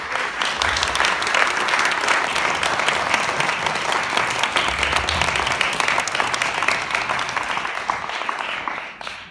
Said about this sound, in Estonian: Aivar Riimetsa, teeme talle suure aplausi.